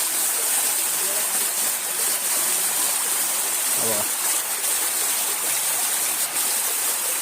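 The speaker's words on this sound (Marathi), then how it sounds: "तो आमचा छोटा धबधबा" A small waterfall in the jungle pours in a steady, loud hiss of rushing water that fills the whole stretch, with a brief low thump partway through.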